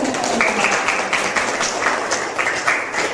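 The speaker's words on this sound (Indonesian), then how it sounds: "Tepuk tangan untuk kalian." A class of students clapping together in a classroom, loud and close, with rhythmic bursts of claps repeating in a quick pattern across the few seconds.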